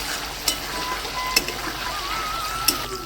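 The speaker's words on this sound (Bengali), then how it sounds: "পনিরটাকে আমি হালকা করে লাল করে ভেজে নেব।" Paneer shallow-frying in a pan with a soft, steady sizzle, broken by a few sharp spits and taps, close and fairly quiet.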